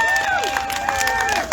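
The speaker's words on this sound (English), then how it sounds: "Can you just clap for each other because you're amazing" A rally crowd applauds and cheers for the teams at a post-event gathering to end violence, loud and close, with whoops and whistles rising above steady clapping.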